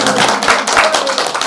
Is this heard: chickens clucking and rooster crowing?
no